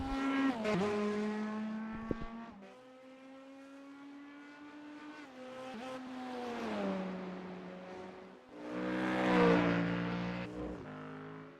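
GT3 race cars at Watkins Glen in a racing video game, a field of Fords, Porsches, McLarens and a lone Corvette, roar continuously with rising and falling engine pitch as cars accelerate, shift and pass close by, with no talking.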